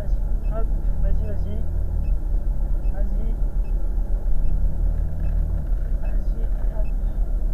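A car creeps forward under gentle throttle during a driving lesson, its low engine rumble steady and close throughout, with voices talking over it.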